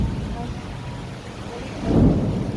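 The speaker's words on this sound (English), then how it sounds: "when it thunders?" A low roll of thunder swells near the end over a steady hiss of rain.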